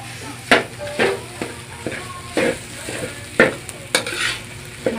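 Garlic fried rice (sinangag) being stir-fried in a pan, with a steady soft sizzle under repeated scraping and tossing strokes of a spatula at an irregular rhythm, close up.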